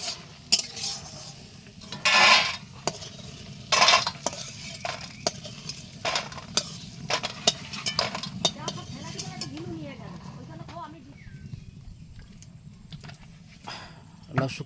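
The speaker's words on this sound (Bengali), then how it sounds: "এবার কিন্তু এই বড়িগুলো ভেজে নেবে। বড়িগুলো কিন্তু এরকম পুরো লাল লাল করে ভাজতে হবে।" Bori lentil dumplings fry in a pan in a soft sizzle, broken by sharp clatters of a utensil against the pan and occasional talk nearby.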